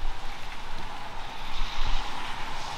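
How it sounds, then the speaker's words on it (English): Rain falls steadily outdoors in a dense, even patter with occasional heavier drops, close and continuous throughout, with no talking. "at least I can test the audio of the rain"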